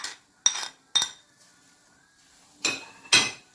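Minced meat and onions stirred in a pan, heard as four sharp metallic scrapes and clinks of a utensil against the pan in two pairs, with quiet gaps between them.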